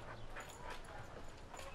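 Dogs barking and whimpering during a patio confrontation, faint, short yips and whines heard from a distance over a noisy background.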